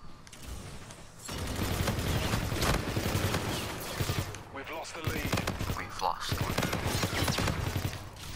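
Dense gunfire in the Call of Duty Infinite Warfare video game, including shotgun blasts: loud, continuous bursts of shots and impacts that fill the scene after a quieter opening second.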